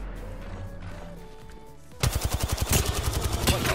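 Rapid automatic gunfire rips out in a fast, evenly spaced burst in the video game Apex Legends. It comes in loud and close after a quieter stretch of tonal game sounds.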